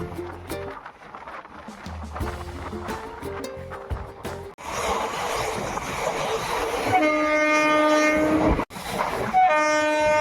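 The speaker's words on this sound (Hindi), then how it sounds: "तो हमारी ट्रेन लेफ्ट साइड कर्व लेते हुए बढ़ रही है इसके सेकंड स्टॉपेज सूदसर की तरफ" The 22471 Bikaner–Delhi Sarai Rohilla SF Express rolls along the rails on a curve between Napasar and Sudsar, with rhythmic wheel clatter and rumble building, then long sustained horn blasts sounding loud and close.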